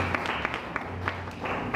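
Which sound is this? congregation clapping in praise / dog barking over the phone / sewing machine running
congregation clapping in praise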